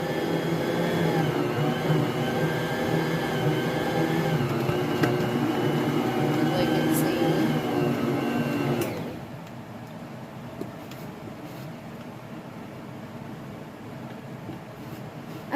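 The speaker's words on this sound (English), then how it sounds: "I can just put it in this machine and it will knead it for me." A bread machine motor whirs steadily while kneading French bread dough, a loud droning hum that drops abruptly to a quieter run about halfway through, with no talking.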